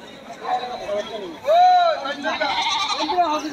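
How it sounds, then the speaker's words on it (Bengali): Mother goats bleating nearby at a rainy, muddy goat market in Kaitla, one loud wavering bleat in the middle with softer calls around it, amid background chatter of a crowd. "দেখুন এরা মাদি ছাগল, মা ছাগলগুলো"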